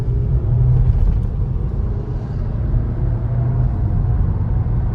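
Skoda Kushaq 2026 with a 1.5 TSI engine and DSG gearbox, driving with a steady low engine rumble and road noise throughout, no talk.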